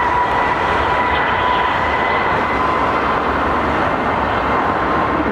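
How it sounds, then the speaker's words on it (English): Steady, loud broadband roar with a faint tonal whine from the auxiliary power unit of a Lufthansa airliner parked at Heathrow Airport, continuous and unchanging throughout. "He's still got his APU running"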